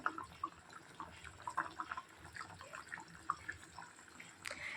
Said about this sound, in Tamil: இது மாதிரி நல்லா கொதிக்கணும்.